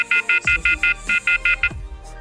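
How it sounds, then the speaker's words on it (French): A smartphone rings loud and close, set off by the find-phone function of a CACGO K2 OLED smartwatch, giving a repeated electronic beeping tone in regular short bursts. "Comme vous l'avez entendu, ça fait sonner le téléphone."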